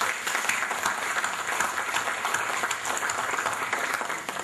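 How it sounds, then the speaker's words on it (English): An audience at an annual general meeting gives a round of applause, many hands clapping in a steady, dense stream at moderate volume with no speech over it. "So I would like us to give a round of applause for Mr. Itazaz."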